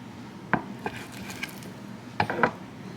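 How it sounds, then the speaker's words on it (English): A knife cuts a slice from a double smoked Irish whiskey glazed ham on a board, with a few soft clinks and taps of the blade, quiet and close. "Let me cut a slice."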